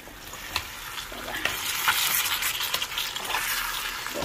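Fresh liver being stir-fried in a hot pan while rice cooks, giving a steady loud sizzle with scraping stir strokes throughout, no talking.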